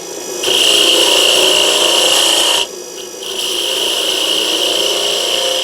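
Wood lathe turning with a gouge on a beginner's woodturning project, a steady close rasping scrape of the cutting edge on spinning wood, with a brief dip in the middle before the cut resumes; no talking.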